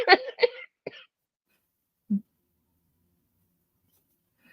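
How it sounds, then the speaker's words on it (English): Two quick, close coughs in a quiet room, followed by a smaller cough and then a brief low throat sound. "The cough is still here."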